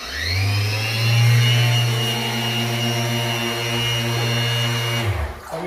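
A Mirka drywall sander running, with a steady loud whirring drone and a high whine that holds for about five seconds before it cuts off and winds down.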